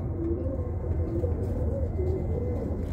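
Birmingham Roller pigeons in breeding pairs cooing in a loft, soft repeated low coos over a constant low background hum, fairly close.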